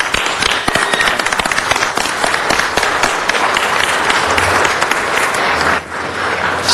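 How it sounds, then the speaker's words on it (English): Loud, sustained applause from a crowd at a city council meeting, dense clapping filling the room steadily for several seconds before dipping slightly near the end. "why don't we give a dear friend and colleague a round of applause."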